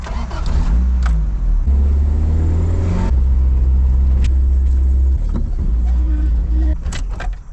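A Toyota AE86 revived after sitting abandoned, with distributor and carburetor trouble and ignition timing set near 35 degrees, its engine running with a low uneven rumble and a few small rev changes, close by and steady.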